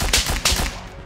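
Gunfire in the survival shooter Miscreated: two loud, close bursts of shots about 0.4 s apart, each cracking sharply and decaying into a rumbling tail with no talk.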